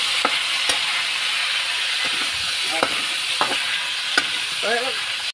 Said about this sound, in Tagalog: gigisa lang yun guys